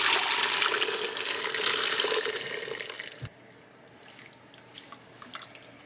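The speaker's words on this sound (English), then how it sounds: "Just got our pot here, a strainer in that, and I am going to run this through." Broth is poured from a pot through a strainer, a loud close splashing rush of liquid that stops abruptly partway through, leaving faint drips and quiet kitchen sounds.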